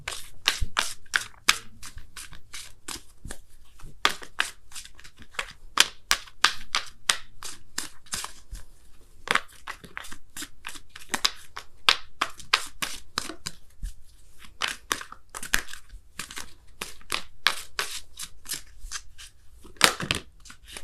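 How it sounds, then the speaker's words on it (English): Oracle cards being shuffled by hand, a run of quick crisp riffling snaps and flutters in irregular bursts, close and fairly quiet, with no talking over them. "I'm going to pull you guys a Wisdom of the Oracle card as well"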